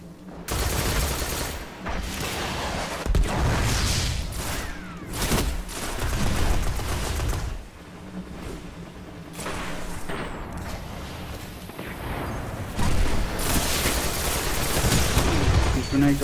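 Gunfire in a Destiny Iron Banner match on a Warlock build, with repeated bursts of shots and booms across the whole stretch and a player talking over parts of it.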